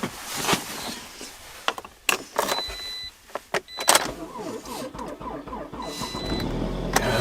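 A car engine in -40° cold with snow on the ice: clicks and sharp bursts as it cranks, then it catches into a steady, rumbling idle close by.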